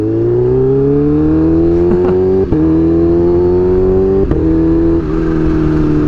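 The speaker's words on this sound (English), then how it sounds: "Got some little rolling burnout on the way, unintentional." A Kawasaki Ninja H2 motorcycle accelerates hard, its engine loud and close with a steadily rising tone. Brief dips mark quick shifts along the way, and nothing else is heard.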